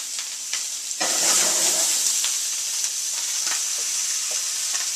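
Butter sizzles loudly in a hot pan beside grouper, a steady bright hiss that swells sharply as it hits the pan and keeps frying evenly.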